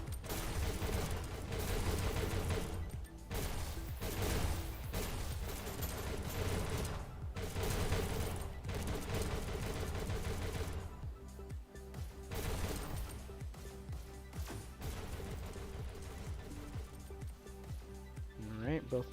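Rapid gunfire from a competitive VR esports shooter match, sustained bursts of shots and clattering mechanisms rattling on and off throughout, busy and fairly close, with commentary voices mixed underneath.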